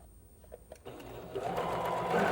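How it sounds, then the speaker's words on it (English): After a few soft clicks, a home sewing machine starts up and runs a straight stitch across the bottom of a pocket, its motor whirring close and steadily louder to the end. "You sew across the bottom, which I'm going to do."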